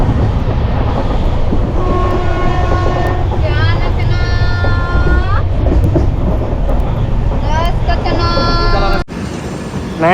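Steady rumble and rattle of a crowded passenger train running in India, with people talking loudly over it throughout and a brief dip near the end.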